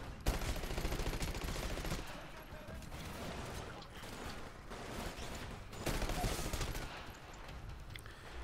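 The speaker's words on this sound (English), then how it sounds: "Yay, I can shoot AI!" Rapid gunfire from the shooter video game Titanfall: dense, overlapping bursts of automatic fire run nearly continuously for the whole stretch, loud and close, with volume swelling at the start and again near the end.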